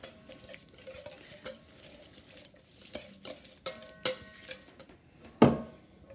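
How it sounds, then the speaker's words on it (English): Lemon rind and lemon juice get whisked together in a bowl, giving a quiet run of scattered clicks and scrapes with a few sharper taps against the side. The sounds are close and soft, and there is no talking. "4 teaspoons of lemon rind, and 2 teaspoons of lemon juice. Whisk that all together."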